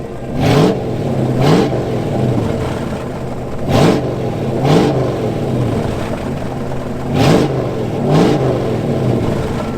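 A junkyard car engine, jumped through a relay, revs hard in repeated bursts. Several loud, close roars rise and fall in an uneven rhythm over a rough idle.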